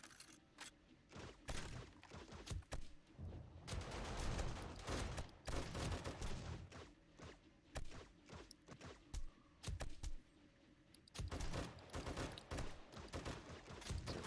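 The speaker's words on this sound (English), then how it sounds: "an M60 with high-powered rounds seems to really cut through them" M60 machine gun loaded with high-powered rounds firing in a zombie-horde base-defence video game, dense bursts and sustained rattling gunfire with short gaps, loud and continuous throughout without speech.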